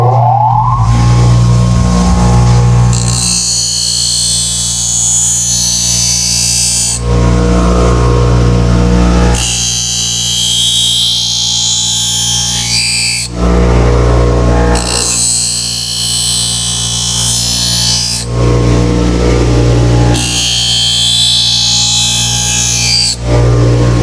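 A knife blade is drawn across a powered sharpener in repeated passes, each pass a harsh, loud grinding rasp lasting a few seconds over a constant motor hum, with brief gaps between strokes.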